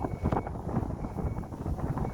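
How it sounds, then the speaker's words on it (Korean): Gusty coastal wind over a vegetable patch on a peninsula buffets the microphone in uneven puffs, a low, rough rumble that rises and falls without any talking. "이 바람 소리. 해안반도에서 불어오는 바람 소리 들어보세요"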